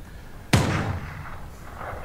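A single sharp gunshot sound effect on a radio show cracks out loud and close, followed by a short rumbling tail that fades over about a second.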